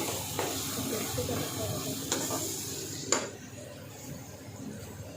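Food being sautéed in a pan over a low flame, a soft continuous sizzle with scraping and stirring, plus a couple of sharp metallic clinks from a spoon against the pan.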